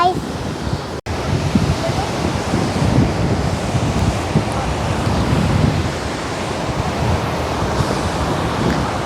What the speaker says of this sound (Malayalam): നല്ല വെള്ളച്ചാട്ടാട്ടോ